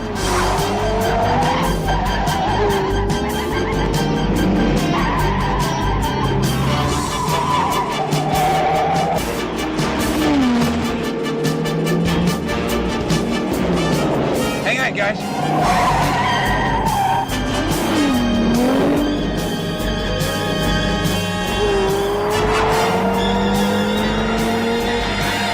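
Tires squeal and skid again and again as a fast car races through a chase, with engines roaring continuously under long, loud screeches and no voices heard.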